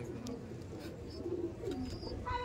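Fulshira master pair pigeons cooing softly, several low repeated coos close by, with faint background noise and chirps.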